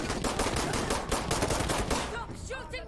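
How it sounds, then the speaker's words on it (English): Rapid automatic gunfire in Insurgency Sandstorm, a dense run of loud close bursts for about two seconds, then quieter scattered shots and ringing tones trailing off at the end. "Shoot him in the stomach."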